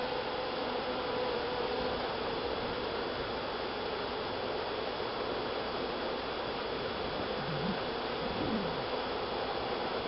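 A dense, steady hum of honeybees buzzing close by fills the air during a hive inspection with smoke, with no pauses.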